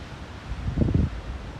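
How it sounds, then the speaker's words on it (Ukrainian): Strong wind buffets the microphone in a steady low roar, swelling into a louder gust near the middle before settling back. "Дуже сильний вітер."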